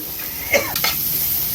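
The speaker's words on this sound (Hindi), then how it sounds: "तड़का है भाई, इंडियन तड़का है।" Steady frying hiss from a hot pan of onions and green vegetables with spices, an Indian tadka, with a few clinks and scraping stirs of a utensil against metal.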